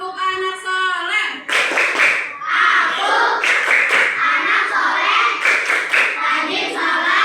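Children and adults chant the Indonesian Islamic classroom cheer tepuk anak soleh in an elementary religion lesson, voices rising together over steady rhythmic hand claps, close and loud throughout.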